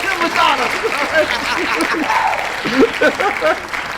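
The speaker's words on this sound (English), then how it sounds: "Round of applause for Nancy Reagan and Madonna." A room gives a round of applause for Nancy Reagan and Madonna, steady clapping running the whole length alongside a few scattered voices talking and chuckling over it.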